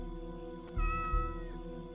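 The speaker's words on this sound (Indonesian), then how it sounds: "Tadi ada suara kucing loh, gimana?" A cat meows twice in quick succession in the Indonesian horror game DreadOut, short clear mews set over a steady low in-game ambient drone and tonal hum.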